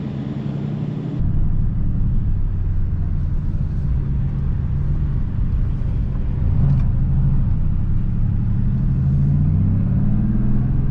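A Mercedes-AMG GT cruises on a road just after leaving the Eurotunnel. A steady, loud engine rumble and road roar carry through the whole stretch, with the drone swelling slightly partway through.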